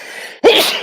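A single sharp sneeze bursts out close to the microphone after a moment of quiet room tone, loud and abrupt with a breathy tail.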